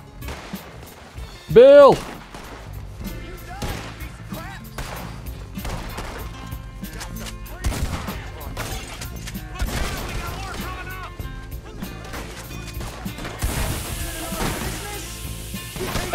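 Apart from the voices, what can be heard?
shotgun gunfire in Red Dead Redemption 2 video game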